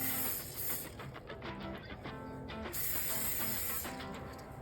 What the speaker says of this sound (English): my assistant will spray a bit of cooking oil in there